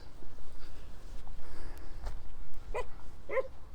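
A dog on Elephantine Island in the Nile at Aswan, Egypt, giving a couple of short yips or barks near the end, moderately close, over steady outdoor ambience.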